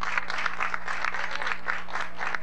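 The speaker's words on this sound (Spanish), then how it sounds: "Un aplauso fuerte para ellos." A studio audience at a televised quiz show claps hard and steadily for the student contestants, with dense, rhythmic applause under a faint low hum.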